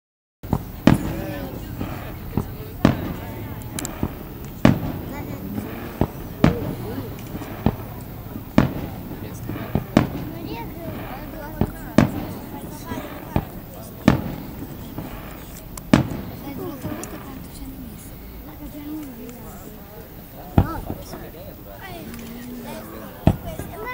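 Fireworks burst in a steady run of sharp bangs and crackles at a festival show, some near and some farther off, over a constant crowd murmur, with people talking throughout.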